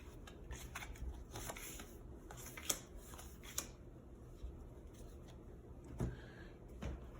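Tarot cards being pulled and shuffled: soft, quiet rustles and light flicking ticks, scattered and intermittent, close but faint.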